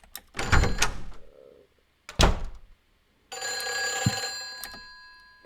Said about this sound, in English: Now our damn phone's ringing.